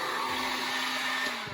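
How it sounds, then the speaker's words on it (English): A heat gun blowing hot air while a pinball playfield is prepared for an overlay: a loud, steady broadband whoosh with a constant motor whine, continuous and close throughout. "So get your heat gun."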